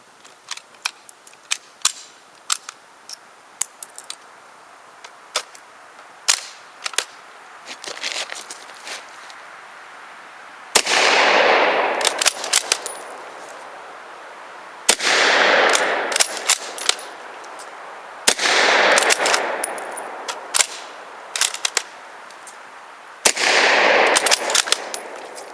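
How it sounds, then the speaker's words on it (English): A Swedish Mauser M96 Carl Gustafs rifle fitted with a blank adapter fires blank rounds: four loud, sharp reports a few seconds apart, with scattered clicks and handling noises from the action between them. "So I've got several rounds of this blank ammunition, and we are going to see what it's like."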